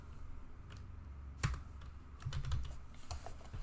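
Computer keyboard typing up close, quiet irregular keystrokes in short bursts over a low background hum.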